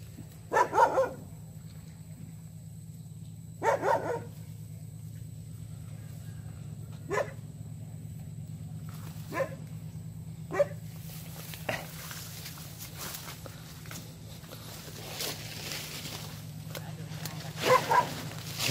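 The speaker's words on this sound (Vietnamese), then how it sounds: "Chó tới đây mà còn sủa nữa." A dog barks at a riverside fish-farming spot in Dong Thap in Vietnam's Mekong Delta, giving a few short barks spaced far apart at moderate distance over a steady low hum, with people talking in between.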